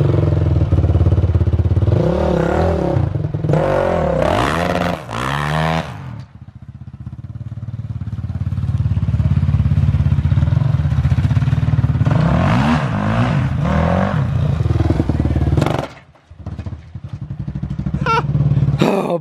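A street-legal supermoto motorcycle ridden close by, its engine revving in sharp bursts, then holding a steady drone before dropping off and picking up again near the end.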